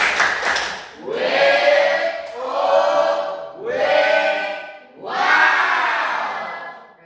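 A group performs the Indonesian 'tepuk wow' clapping chant in a classroom training session, with four loud shouted vocal bursts swelling and fading in turn, clapping blended into the chanting voices.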